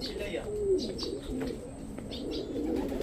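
Racing pigeon arriving at the loft during a sprint race: soft coos and chirps close by, with faint wing flutters and a person speaking quietly.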